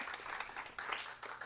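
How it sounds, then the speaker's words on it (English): Audience applause for author George Sorensen at an evening author event, a soft, steady wash of many hands clapping, somewhat distant and faint throughout. "All right, a round of applause for George Sorensen."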